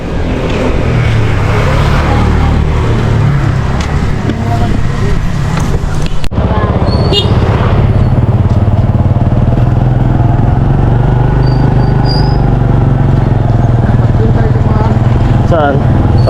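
Motorcycle engine rumbling close by as it passes, a loud continuous throaty drone with a brief jolt partway through, while people talk over it.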